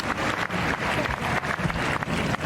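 Golf spectators applaud a shot at a play-off, with a dense burst of clapping that holds steady throughout and fluctuates slightly in level.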